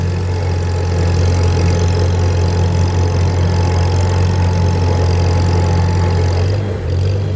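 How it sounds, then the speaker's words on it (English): A Super A farm tractor engine idles steadily and loudly up close, a constant low rumble with a slight knocking texture that holds for the whole stretch, with no talking. "Really like this tractor. Really like it. The Super A."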